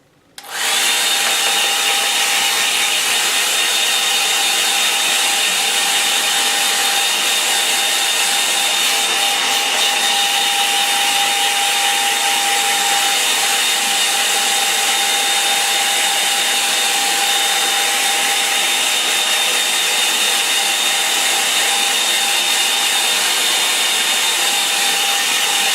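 Hair dryer drying a watercolour painting: the dryer switches on abruptly and runs as a loud, steady whir for the whole stretch.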